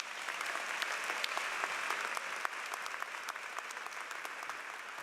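Steady, dense applause from a large audience at a university undergraduate commencement ceremony, sustained evenly from start to finish at a moderate distance, with no speech over it.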